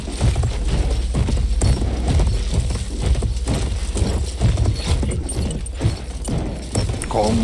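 Horse hooves clip-clop steadily in Battlefield 1, a loud, continuous galloping rhythm of hoof strikes with no voices over it.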